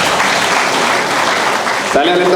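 Audience at a graduation ceremony clapping in a steady, loud burst that is cut off near the end, where a voice begins speaking.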